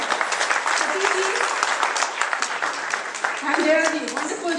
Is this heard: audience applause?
yes